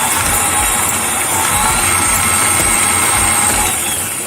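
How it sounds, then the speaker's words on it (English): Stand mixer with a paddle attachment creaming sugar and butter for gingerbread cookies, giving a steady, loud motor whir and hum that holds unbroken throughout, with no voices. "So we're going to add the sugar now and cream the sugar and the butter together for about 2 minutes."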